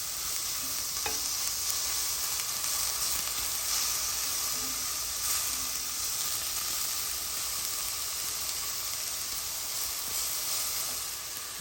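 Garlic sizzles steadily in a hot pan while bolognese sauce is being started, giving a constant close frying hiss with a few faint stirring clinks and no talk.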